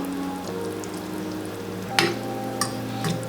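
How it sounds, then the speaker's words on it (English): Ackee frying in a pan with a steady low sizzle, a few brief clinks and stirring scrapes, no talking. "so now we're adding the Ackee, and not to break up the Ackee too much, we're gonna just, you know, let that cook."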